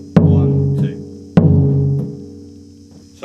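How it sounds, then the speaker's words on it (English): A mid surdo samba drum plays a basic pattern: two deep, resonant booming strokes about a second apart, each followed by a muted touch, ringing out loud and close with no talk. "Basic mid-Surdo part sounds like this."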